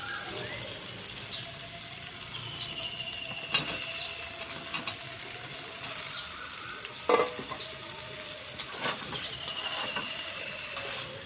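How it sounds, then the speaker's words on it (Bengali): Ridge gourd frying in a pan with potato and drumstick for a vegetarian curry with lentil dumplings: a steady soft sizzle runs throughout, broken by occasional close clacks and scrapes of a spoon stirring, with no talking. "সজনা আলুর সঙ্গে ঝিঙেটাকে মিশিয়ে নেব"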